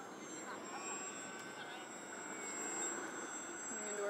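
AeroScout S2 RC airplane electric motor at about half throttle during a landing approach, a faint steady whine heard outdoors over the whole stretch, with a person talking over it.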